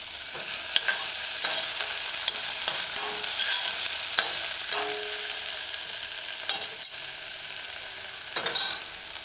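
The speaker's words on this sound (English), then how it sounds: "You got to allow the vegetables such as the onion and the scallion along with the mashed garlic to saute, adding additional flavors." Onion, scallion and mashed garlic sauté in a pot over medium-low heat, a steady close sizzle broken by repeated stirring scrapes, with no talking.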